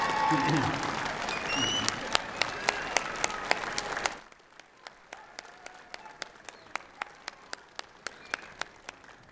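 Graduation ceremony audience applauding, a loud burst of crowd clapping that suddenly drops to sparse, faint scattered claps with some voices underneath.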